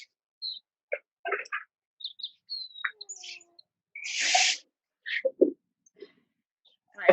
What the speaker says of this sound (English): The weird sounds are my pet parrot over here.